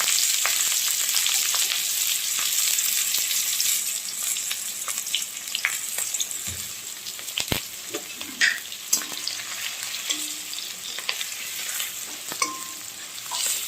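Onion, ginger, turmeric and chilli frying in hot oil in a wok for egg cutlets, a loud steady sizzle with occasional stirring scrapes and clicks throughout.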